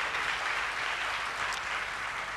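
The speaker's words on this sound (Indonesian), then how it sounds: "Beri tepuk tangan bagi dia." Members of a church congregation applaud together, a continuous wash of clapping at moderate level with no voices standing out.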